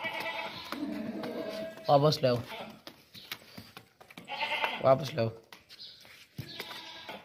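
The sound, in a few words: dairy goat bleating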